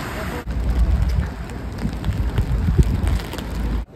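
Rain falling steadily in a broad hiss with scattered louder drops, continuous until it cuts off abruptly near the end.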